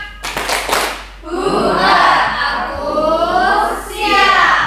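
Children in a classroom do the 'tepuk siap' clapping game, with a short burst of claps at the start followed by children's voices chanting and talking loudly together.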